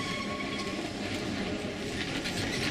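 A Manx Electric Railway train on the Isle of Man coast line runs with a steady, loud rumble and rattle of wheels on rails, continuous throughout with no voices.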